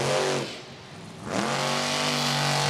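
A monster truck engine roars and revs hard at a Monster Jam freestyle run, loud and close, dipping briefly mid-clip before climbing back into a rising, sustained howl.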